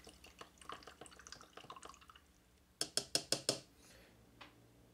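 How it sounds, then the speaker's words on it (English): A paint brush rinsed in water for base-coating a miniature, a quick run of small splashy taps and clicks, then five sharper louder knocks against the container, close and fairly quiet. "So let me go ahead and rinse my brush off here"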